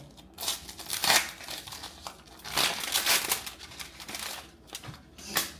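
A paper letter envelope is torn and opened up close, with several sharp crinkling and ripping bursts separated by short pauses, and no voices.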